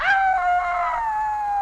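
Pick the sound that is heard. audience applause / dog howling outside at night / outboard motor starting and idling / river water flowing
dog howling outside at night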